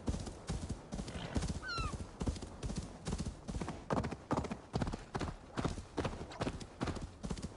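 Steady rhythmic hoofbeats of a galloping horse in a PS5 Viking video game run throughout, with a brief whinny partway through.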